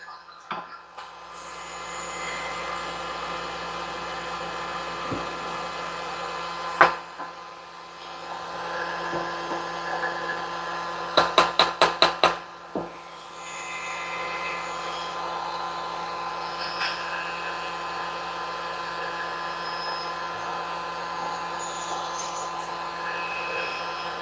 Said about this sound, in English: Right now I'm putting shrink tubing on the swivel.